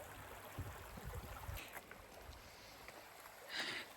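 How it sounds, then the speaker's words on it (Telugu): Water flowing steadily at a stream or pool beside a temple, a continuous broadband rush that stays fairly constant, with a few brief knocks and a brighter splash near the end. "వాటర్ సౌండ్ చూడొచ్చు మీరు"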